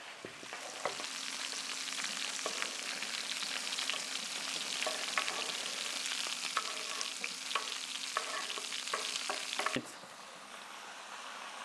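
Game meat browns in a hot pan, a continuous close sizzle and crackle with scattered pops for about ten seconds before the frying suddenly drops to a quieter hiss.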